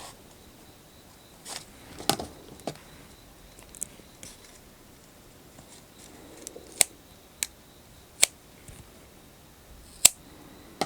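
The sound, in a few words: scissors cutting crochet yarn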